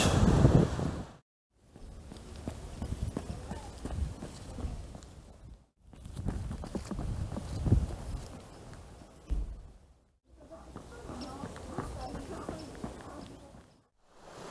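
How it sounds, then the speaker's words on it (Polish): Sea waves wash steadily onto a beach on a calm, nearly windless morning, a broad rushing surge that swells and recedes in long, repeated cycles with brief quiet gaps between them. "zapraszam na film relaksacyjny z szumem morza, z falami morza"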